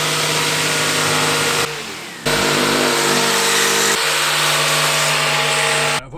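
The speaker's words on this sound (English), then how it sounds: "I'm going to get the jigsaw and cut that out." A jigsaw cuts a panel during a Vauxhall Vivaro van conversion, its loud, close motor buzzing steadily with harmonic tones, pausing briefly partway through before resuming and then stopping.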